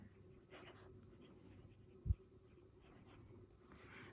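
A Faber-Castell Loom fountain pen nib moving across paper makes faint, soft scratchy strokes in short bursts, very quiet and close, with one brief low thump partway through.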